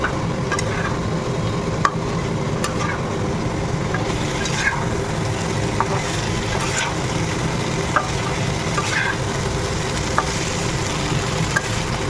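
Cauliflower sizzles steadily as it fries in spice paste in a pan, a dense continuous crackle with occasional spatula scrapes and clicks and no talking.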